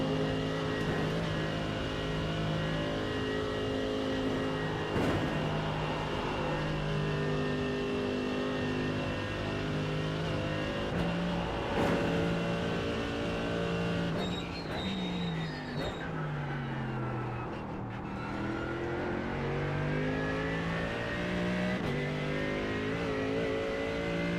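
Race cars lap the Nurburgring in endurance championship practice, engines droning loud and steady with rising and falling revs as cars pass, a sustained roar of several machines throughout.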